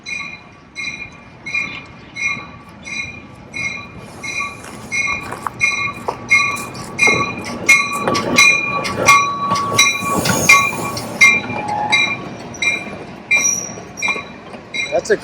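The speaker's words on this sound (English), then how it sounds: "Here comes the train." Train cars roll past at a heritage railway near Snoqualmie, with rhythmic clanking thumps at steady intervals and sharp, sustained metallic wheel squeals rising in the middle, moderately close.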